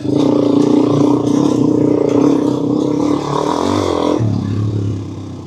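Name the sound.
motorcycle riding off from a stop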